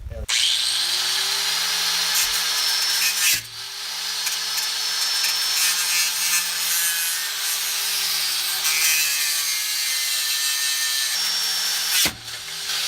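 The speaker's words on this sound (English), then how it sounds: "we're gonna go ahead and try cutting off the bolt there" A cutoff disc slices steadily through an exhaust bolt on a 1.8 Miata, a loud, continuous high-pitched grinding whine that briefly drops twice as the tool pauses.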